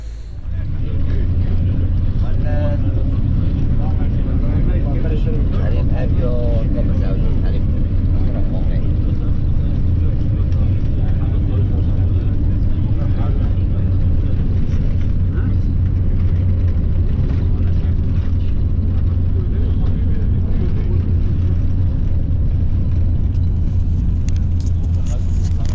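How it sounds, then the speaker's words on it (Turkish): A village car's engine running as it pulls away in the Kars countryside, a loud steady low rumble and drone that holds throughout, with voices talking over it. "Hadi araba kalkıyor."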